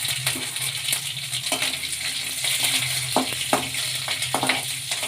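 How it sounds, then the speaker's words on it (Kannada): Urad dal, mustard seeds and green chillies fry in hot cooking oil in a pan on the stove, giving a steady close sizzle with scattered sharp pops and crackles of the seeds, alone without talk. "ಅದಕ್ಕೆ ಕುಕ್ಕಿಂಗ್ ಆಯಿಲ್ ಹಾಕ್ಕೊಳ್ಳೋಣ ಈಗ ಉದ್ದಿನ ಬೇಳೆ ಸಾಸಿವೆ ಹಾಕ್ಕೊಳ್ಳೋಣ ಹಸಿಮೆಣಸಿನ್ಕಾಯಿ"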